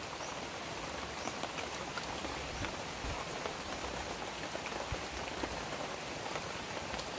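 Steady rain falls during an outdoor rescue search, a dense, even hiss of drops hitting surfaces that holds at constant loudness throughout with no voices.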